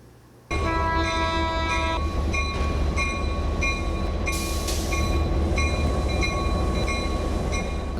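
Locomotive at a historic railway repair works built in 1922 with a turntable, producing a loud steady rumble with a sharp tonal horn or whistle blast at the start and repeated hissing and clanking tones throughout.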